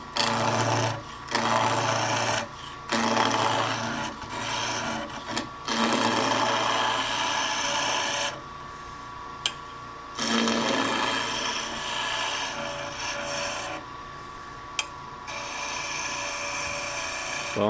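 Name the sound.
wood lathe turning handles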